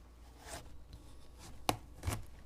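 A knife cuts through a spaghetti squash, with soft sawing scrapes and two sharp cracking thuds as the blade breaks through the hard rind against a board, heard close with no talk.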